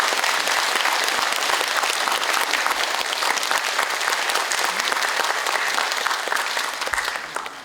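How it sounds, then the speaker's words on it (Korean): Sustained, dense applause from an audience at a Korean memorial lecture for Patriots and Veterans Month, a loud, steady wash of clapping that holds for several seconds before starting to fade at the end. "자, 박수 한번 더 크게 드려드립니다."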